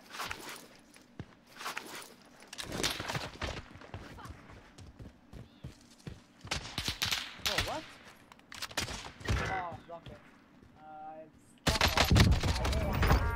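Gunfire in the Call of Duty Warzone video game, scattered shots and bursts at varying distances amid footsteps and movement, with a player talking over them and a louder burst near the end.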